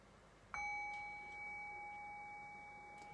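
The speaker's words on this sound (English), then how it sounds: "I'll ring the bell to close it out." A meditation bell struck once to close a lovingkindness (metta) dharma talk gives a single clear, bright ring that sustains and slowly fades for nearly three seconds, with no voices.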